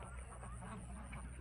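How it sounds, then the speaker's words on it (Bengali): A flock of ducks walking in a line, giving a close, steady run of overlapping quacks and honks with no pause. "সারিবদ্ধভাবে যাচ্ছে হাঁসগুলো, কত সুন্দর দেখতে"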